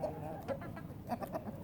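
Chickens clucking around a backyard coop bedded with wood shavings, several short bursts of hen calls coming close together at fairly close range over a low outdoor murmur.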